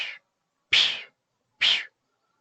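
A human voice imitates the hissing noise of a pneumatic robot drive in three short, breathy bursts with pauses between them, close and isolated.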